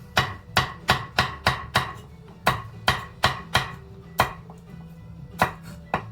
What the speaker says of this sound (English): I do some kind of oblique cut.